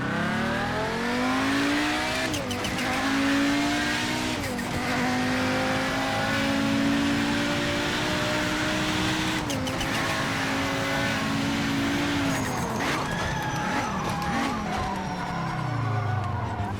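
A race car with overheated tires drones at high revs in Project Motor Racing, engine pitch sweeping up and down through gear changes while the tires give short skidding squeals at intervals, loud and close.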